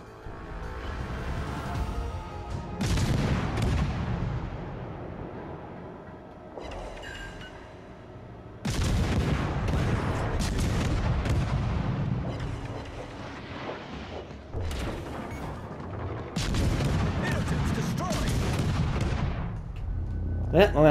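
Heavy naval guns boom from warships in World of Warships: Legends, a series of loud, deep blasts in irregular volleys with rumbling tails, sometimes overlapping, over constant game background noise.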